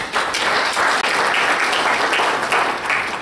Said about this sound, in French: je voudrais que l'assistance vous applaudisse